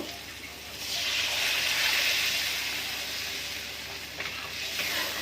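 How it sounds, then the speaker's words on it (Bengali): Water poured into a hot pan of sautéed shrimp curry, a rising surge of hissing sizzle and steam that swells, then settles into a softer sizzle, close by and without speech. "কষানো হয়ে গেছে এখন আমি পানি দিয়ে দিব"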